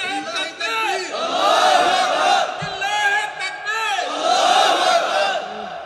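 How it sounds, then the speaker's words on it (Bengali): Large crowd at an outdoor Islamic waz sermon gathering chanting takbir in unison, loud sustained collective shouts swelling and falling in waves over about six seconds, with a brief pause in the middle. "একজন তাকবীর দেন, লিল্লাহি তাকবীর বলেন।"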